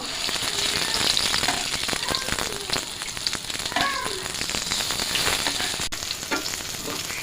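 Lentil fritters (dal bora) frying in hot oil give a steady, close sizzle with crackling pops and bubbling throughout.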